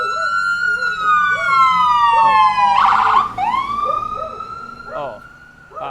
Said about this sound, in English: That was an ambulance, yeah.